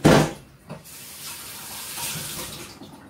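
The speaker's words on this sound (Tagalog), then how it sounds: "So, may konting tubig itapon ko muna." Water splashes into a sink as it is poured off a raw half chicken, a short loud burst followed by a steady softer trickle and hiss, with no talking.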